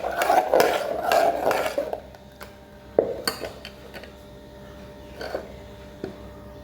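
Pot lid and pan clanking on the stove while rasakalan curry is brought to a boil, a few scattered metallic clinks and knocks after an early stretch of louder handling, fairly close with no voices.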